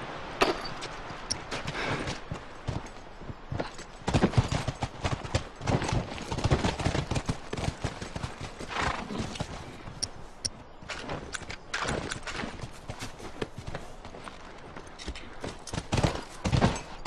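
Horses in the video game The Last of Us walk with a steady, close clip-clop of hooves on hard ground, broken by occasional snorts and neighs, for about seventeen seconds.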